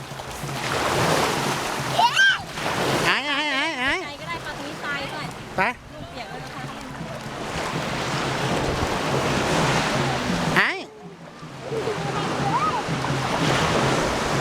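Sea waves wash steadily onto a beach in a continuous surf roar with wind buffeting the microphone, while people talk intermittently over it.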